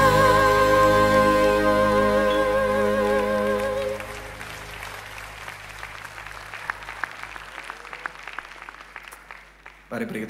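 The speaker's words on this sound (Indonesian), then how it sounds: "Mari beri tepuk tangan sekali lagi buat Mira Beth yang luar biasa" Audience applause at a Christmas worship service rises as a sung carol's sustained final notes fade out, then continues as broad, steady clapping before dropping off near the end.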